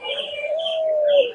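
A male Sherazi pigeon at a pigeon market in Khulna gives a single drawn-out coo, close and fairly clear, lasting just over a second.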